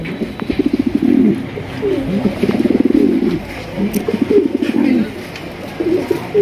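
A large Sirazi fancy pigeon coos close by in repeated rhythmic bursts of low throaty rolling calls, loud and clear with short pauses between phrases.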